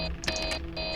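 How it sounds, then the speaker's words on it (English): Electronic alarm beeping in the Five Nights at Freddy's 3 video game, a steady high-pitched tone that breaks briefly and resumes, heard at moderate level over a low background hum. "Why is the red beeping?"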